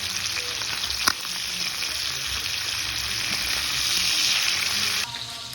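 Chicken pieces searing in a hot pan give a loud, continuous close-up sizzle, with a sharp clack as they are flipped and the frying dipping slightly at the end.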